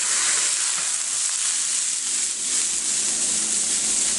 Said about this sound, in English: make sure during the course of things you give that steak a nice little move around